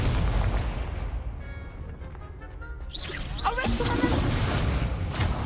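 An Incendio fire spell in Hogwarts Legacy bursts out with a whooshing, crackling blast over steady game noise and background music, alongside a few rising swept tones.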